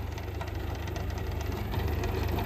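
New Holland 3630 tractor engine running around 2000 RPM with a rotavator attached, a steady low throbbing drone with a regular pulsing beat that grows slightly louder toward the end, no talking.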